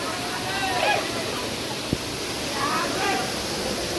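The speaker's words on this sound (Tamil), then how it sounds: "அந்த வாட்டர் ஃபால்ஸ் பாருங்களா." Durgapadu waterfall in Rayagada pours over large rocks with a steady, broadband roar that fills the whole clip, while faint voices murmur underneath and a brief thump lands midway.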